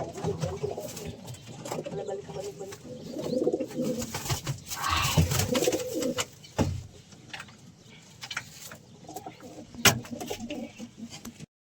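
Pigeons coo repeatedly close by in soft, rolling calls, with a few knocks and bumps around them.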